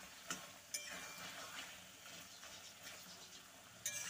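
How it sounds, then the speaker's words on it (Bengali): Bottle gourd greens cooked with mustard are stirred in an uncovered pan, giving a soft, steady sizzle. A few sharp scrapes of the spoon sound close by, with no talk. "তো ঢাকনাটা সরিয়ে আবারও একবার নাড়াচাড়া করে নিচ্ছি।"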